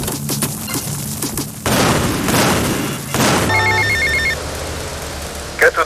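Vans blowing up in GTA Vice City, two loud bursts of explosion noise about a second long each, set among game sounds, followed by a phone-like ringing tone and a short sharp impact at the end.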